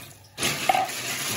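Water from a tap suddenly starts running into a container of snails with salt and vinegar, a steady splashing stream after a brief quiet start.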